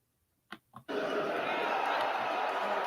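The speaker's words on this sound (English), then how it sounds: "The crowd seems enthusiastic" A large concert crowd roars and cheers continuously from a recorded song, a dense steady wash of voices following two brief knocks at the start.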